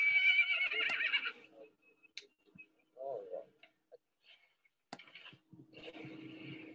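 A horse near a mare lets out a loud, quavering whinny up close, followed by quieter snorts, a few clicks and hoof knocks, then another burst of vocalising at the end.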